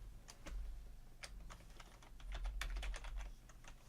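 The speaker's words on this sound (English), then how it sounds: "We need to type rubber." Steady, close typing on a computer keyboard during a modded Minecraft session, a rapid uneven run of key clacks over a low hum, with no talking.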